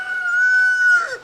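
A rooster crows once, loud and near, one long sustained call that drops off at the end, with no talking over it.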